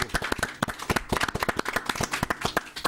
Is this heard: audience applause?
yes